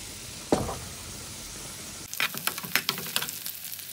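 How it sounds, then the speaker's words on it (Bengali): Onion fries in a pan during stirring: a faint hiss with a sharp knock near the start, then livelier crackling sizzle and a string of spoon scrapes close by, with no talking. "পেঁয়াজটাকে আমি নাড়াচাড়া করে ব্রাউন করে নিয়েছি"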